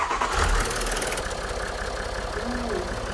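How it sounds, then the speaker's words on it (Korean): A car engine, serviced with an oil additive for a summer chemical campaign, cranks over and settles into a steady idle, running continuously and fairly close with a faint mechanical clatter. "시동 걸어주세요."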